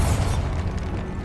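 Spell-cast blast from Hogwarts Legacy: a deep, rumbling low boom that bursts at the start and decays into a dull, sustained rumble in a stone catacomb, with no speech over it.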